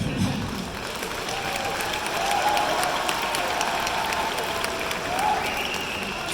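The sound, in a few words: audience applause at a comedy show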